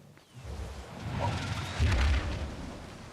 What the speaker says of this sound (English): I just heard some shooting over here.